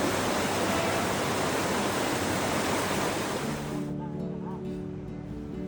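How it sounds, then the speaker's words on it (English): River water rushing steadily through Maastricht, a dense broadband wash that holds for most of the moment, then thins near the end as fainter, lower rumbling remains. "So this is the second river."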